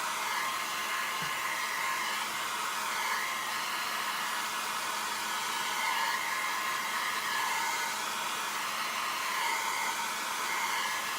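A low-heat blow dryer held very close to a canvas to dry alcohol ink gives a steady, continuous airy whoosh that runs unbroken and alone for the whole stretch.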